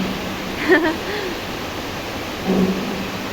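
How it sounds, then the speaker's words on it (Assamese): Heavy rain falls in a steady, even broadband roar that stays constant throughout, with faint brief vocal sounds barely rising above it. "চাওকচোন কি জোৰে বৰষুণ দিছে"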